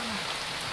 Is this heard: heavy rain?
yes